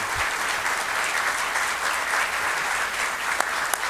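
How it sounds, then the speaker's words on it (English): Crowd applause at the live DAC Athlete of the Year 2017 awards show, a continuous even roar of many hands clapping at a moderate distance, with a couple of sharper claps near the end. "How about a round of applause for Shane?"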